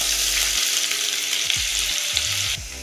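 Onion frying in oil with mustard seeds and cumin in a kadai, a bright continuous close sizzle with a few soft low clunks of stirring.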